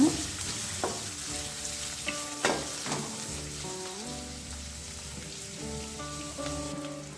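Chopped onion fries in a pan for a drumstick-leaf palya, making a close, steady sizzle broken by scraping stirs, with a soft tonal hum in the background.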